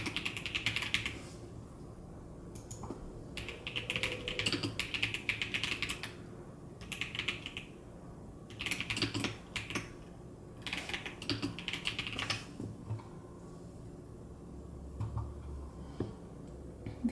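Keys clatter on a Keychron computer keyboard in quiet bursts of rapid typing, separated by short pauses, close and soft, with no talking.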